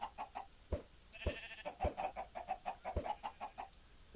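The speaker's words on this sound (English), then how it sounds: "Getting lots of chickens going here." Chickens in a video game cluck in quick, repeated bursts, with a few sharper low thumps mixed in, close and fairly loud with no talking.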